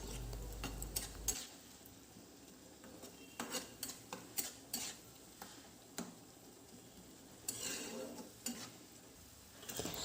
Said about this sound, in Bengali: এই সব উপকরণগুলোকে সামান্য পরিমাণে একটু জল দিয়ে বেশ ভালো করে কিন্তু কষিয়ে নেব